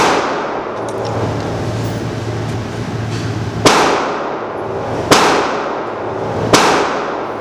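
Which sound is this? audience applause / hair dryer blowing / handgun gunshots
handgun gunshots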